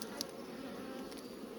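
Honeybees hum in a steady, soft drone while a hive is open during a mite-strip removal inspection, a faint continuous buzz with a brief louder pass near the start.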